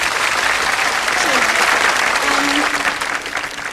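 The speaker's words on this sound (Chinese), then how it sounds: "好，我们再次用掌声来欢迎一下" An audience at a concert breaks into loud, sustained clapping that stays steady and then begins to thin toward the end.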